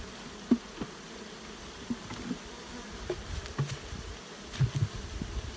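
Honey bees buzz steadily in an opened hive, a soft, close droning hum broken by occasional louder passes of individual bees near the microphone.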